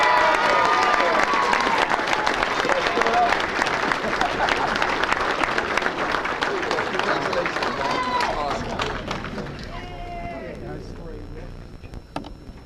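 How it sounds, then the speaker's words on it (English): Banquet audience at a sports hall of fame dinner giving a big round of applause for an honoree, loud sustained clapping with cheers that thins out toward the end as a voice emerges. "let's honor with a big round of applause"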